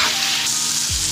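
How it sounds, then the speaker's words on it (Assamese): Eggplant slices frying in hot oil give a steady, close sizzle with a brief crackling burst near the end, alone with no talk. "তাৰপিছত এয়া বেঙেনা ভাজিলোঁ"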